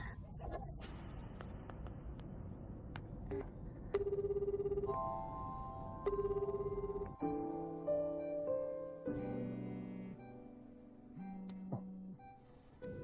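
A phone ringtone plays a simple melodic pattern of repeated tones, clear and moderately loud, with a few clicks and light background noise.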